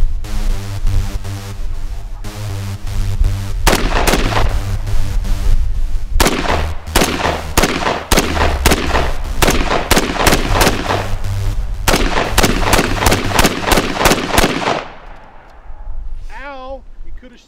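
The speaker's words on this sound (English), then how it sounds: "Shooting the Tavor!" Rapid bursts of loud, sharp gunshots from a Tavor TAR-21 rifle at an outdoor shooting range, crowded together with only brief pauses, ending in quiet and a short bit of voice.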